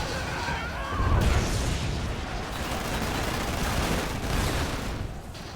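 A GLA anthrax bomb launches and detonates in the Rise of the Reds real-time strategy game, giving a loud, dense rumbling blast with crackling bursts that sustains for several seconds and then tails off slightly.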